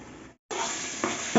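Curd goes into chicken biryani masala in a pan, which sizzles loudly after a brief silence, with a couple of stirring scrapes rising near the end, close and without voices.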